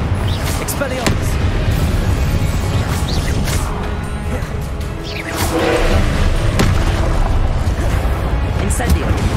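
Spell casts and Confringo blasts in Hogwarts Legacy land as loud booms and whooshing bursts over a steady rumble of combat, with a voice shouting alongside the blasts.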